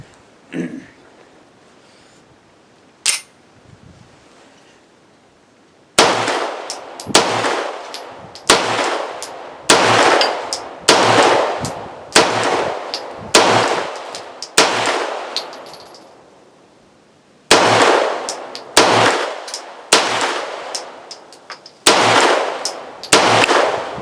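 A Rock Island Derya Melik 9mm pistol fires outdoors in cold weather using Beretta magazines: two isolated shots, then a long string of loud, evenly spaced shots with sharp reports and ringing decay, a short pause, then another run of shots.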